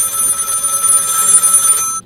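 A loud electronic telephone ring in the video game Find Yourself trills steadily for about two seconds, then cuts off abruptly.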